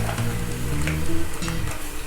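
Red wine hits caramelized sugar in a hot pan and sizzles loudly while being stirred, a close, steady crackling hiss with no talk.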